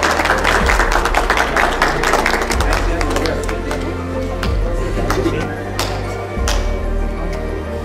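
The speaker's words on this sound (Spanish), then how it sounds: "vamos a brindarles un fuerte aplauso" Wedding guests applaud the newly married couple with a sustained wash of many hands clapping, loud and continuous for several seconds over low background music.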